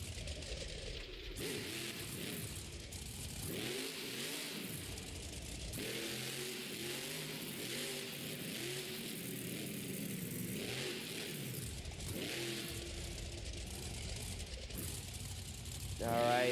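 A monster truck engine at a Monster Jam stadium show in Oakland revs hard in long surging roars, rising and falling over many seconds, with an announcer talking through it.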